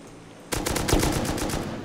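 A rapid burst of automatic M249 machine gun fire in the video game Rust, steady and loud, with evenly spaced shots rattling for over a second.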